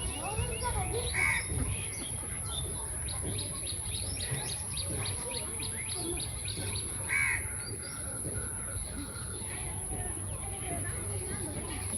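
Crows caw repeatedly amid other birds calling in a village, over a steady outdoor background with a high constant whine.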